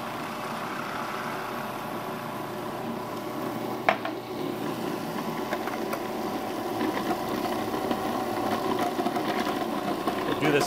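Food processor motor runs steadily while warm lager beer is poured in through the top for donair dough, a continuous whirring hum that holds at an even level throughout.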